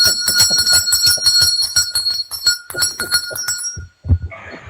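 Bell rung rapidly over and over, loud and close with shimmering sustained ring, then trailing off into a few soft knocks and a brief rustle.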